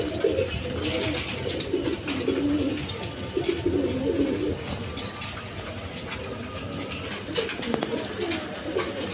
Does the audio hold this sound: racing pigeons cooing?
yes